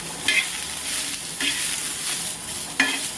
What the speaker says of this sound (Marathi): तेलामध्ये हा मस्तपैकी भाजून घ्यायचा मसाला